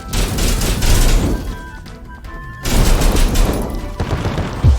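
Explosions and gunfire in the video game CrossCode: loud rapid bursts and booming blasts, a brief lull in the middle, then more crackling fire.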